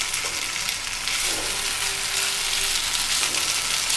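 Raw banana slices with pepper frying in a pan for a Tamil-style fry, a steady close hiss of sizzling oil with faint occasional stirring, no voices.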